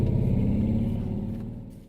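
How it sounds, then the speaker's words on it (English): A truck with a faulty muffler accelerating, a loud rough low rumble that swells and then gradually fades. "that truck that had obviously had a muffler problem, speeding up like that"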